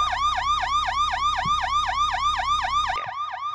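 A police car siren in the BeamNG.Drive driving game wails in a steady, rapid up-and-down cycle, loud and close, cutting out abruptly near the end.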